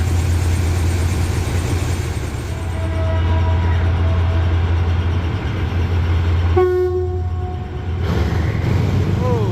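A special train rumbles close by with a steady low engine drone, and a horn-like tonal blast sounds briefly partway through.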